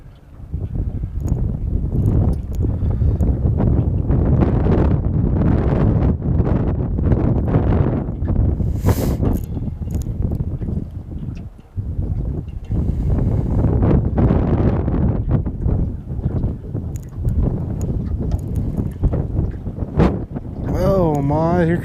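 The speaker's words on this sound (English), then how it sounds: "here comes the wind again" Wind buffets the microphone outdoors on the water near a dock during a fishing outing, a loud, steady low rumble that fills nearly the whole stretch with only a brief dip midway.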